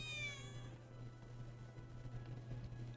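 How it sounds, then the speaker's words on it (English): A cat in the video game Final Fantasy VII Remake gives a single rising, clear meow at the start, then a quiet steady hum continues alone. "I think one of Betty's cats might be here."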